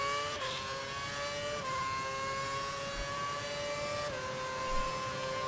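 An F1 2011 race car engine in the video game whines steadily at high pitch, shifting gears a few times as it closes in, with no voices.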